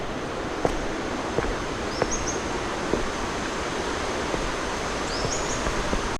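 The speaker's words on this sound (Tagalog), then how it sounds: "yung ingay ng agos ng ilog at saka yung ingay ng mga humuhuning ibon sa paligid." A river near Tinago Falls in Mindanao rushes in a steady, even flow of water, with a few faint bird chirps rising above it now and then.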